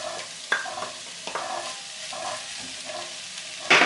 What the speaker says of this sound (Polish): Warzywa już mam przysmażone. Dodaję buraczki.